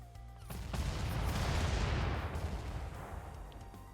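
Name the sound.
enemy mech gunfire and rocket shots, Front Mission 2 video game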